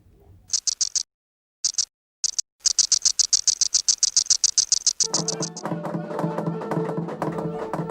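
An insect stridulates by rubbing a hard movable appendage against a ridged membrane, giving rapid rhythmic bursts of buzzy pulses with brief gaps, then a denser rattling chirr, close and fairly loud.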